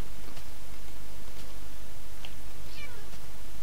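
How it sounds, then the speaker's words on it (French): Several short cat meows from Minecraft cats, faint and spaced out over a steady low background hum, with no talking. "le bruit des chats est tout à fait horrible"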